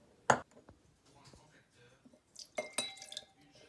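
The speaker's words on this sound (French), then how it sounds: "Un peu de glaçons, on verse du vin, un verre de vin" Ice cubes clink into a glass and wine is poured for a spritz, with a sharp clink at the start and more clinking and pouring sounds later, close and fairly quiet with faint background.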